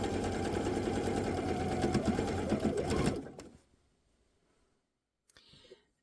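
A sewing machine runs steadily, stitching the corner of a zippered quilt block pillow, loud and continuous for about three seconds before stopping, with a faint brief rustle afterward.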